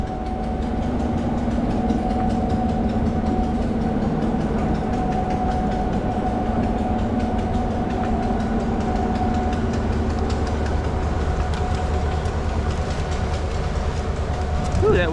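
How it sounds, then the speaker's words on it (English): A train rolls past a river where people are white-water kayaking, a steady loud rumble with rhythmic clickety-clack of rail cars throughout, while voices talk over it. "Oh, there's the train."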